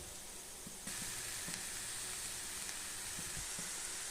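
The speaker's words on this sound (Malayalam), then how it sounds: "ഇനി നമുക്ക് അരിഞ്ഞു വെച്ചിരിക്കുന്ന വാഴപ്പിണ്ടി ഇതിലേക്ക് ഇട്ട് കൊടുക്കാം" Chopped banana stem drops into a pan of well-fried spice paste for a thoran, and the steady sizzle jumps louder and brighter on contact, then holds as a continuous frying hiss with no talking.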